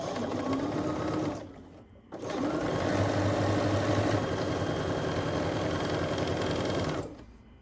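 A sewing machine stitching quilt pieces together, running loud and close in a steady whirring hum, stopping briefly near the two-second mark, then running again continuously for about five seconds before winding down.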